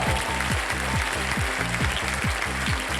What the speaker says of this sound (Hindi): और तालियों के साथ आपका स्वागत